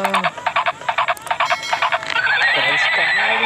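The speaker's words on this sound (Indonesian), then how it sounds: "Wow, ada kuda terbang kawan." A toy flying Pegasus horse gives a bright electronic neigh made of rapid pulsing whinny bursts, loud and close, followed by a sustained tonal chime as the toy's sound continues.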